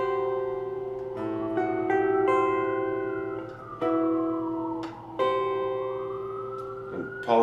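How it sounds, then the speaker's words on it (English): Police sirens wail on a New York City street, rising and falling tones sweeping up and down, fairly loud and continuous, with a few horn-like blasts over a steady low rumble; no talking. "And apologies for the sirens."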